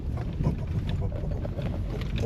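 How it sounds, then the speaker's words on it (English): Strong Icelandic wind buffeting the microphone beside a gravel road, a dense, rough low rumble with gusty fluctuations, close and continuous over a few seconds with no talk. "But yep, definitely strong wind."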